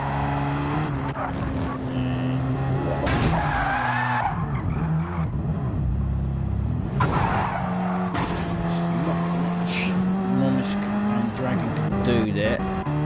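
A Radical race car drifts through a corner at Circuit de Sainte-Croix on worn-out tyres, its engine droning loudly throughout while tyre squeal and skidding rise and fall, with a commentator talking over it.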